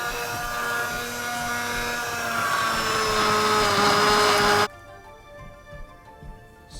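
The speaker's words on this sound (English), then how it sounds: "and then I will mix them up with the hand blender." A hand blender whirs loudly through green curry with fried basil for a Thai green chicken curry, a steady motor whine that cuts off abruptly near the end, leaving quiet kitchen room noise.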